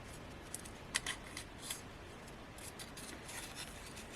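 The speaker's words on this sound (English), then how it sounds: "we can cut away anything we don't want" Scissors snip away card during a cardmaking session, giving a few quiet, crisp cuts early on followed by soft rustling and scraping of paper, close and faint with no talk.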